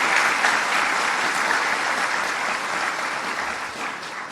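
An audience at a university inaugural address at IIIT Delhi breaks into sustained applause, a dense, steady wash of many hands clapping that holds for several seconds and eases off slightly toward the end.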